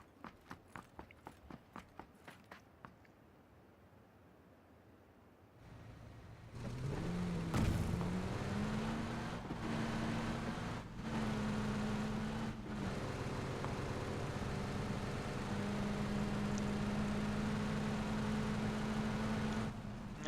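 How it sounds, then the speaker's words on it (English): A black Jeep in PUBG starts with footsteps on the ground, then its engine cuts in and holds a steady, loud drone as it drives on, with no talking. "I just went and took this black Jeep and drove into the circle"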